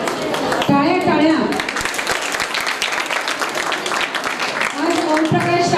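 Audience applause at a children's stage play, a loud, continuous burst of many hands clapping, with voices speaking over it at the start and end.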